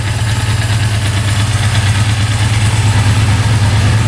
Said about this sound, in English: Engine sounds really good, no knocking from the top end or bottom end.